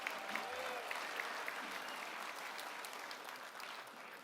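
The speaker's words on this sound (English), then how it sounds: "Can you please give her a round of applause?" Crowd applause at the Finke Desert Race presentation, a fairly faint, sustained patter of clapping from a gathered audience that tapers slightly toward the end.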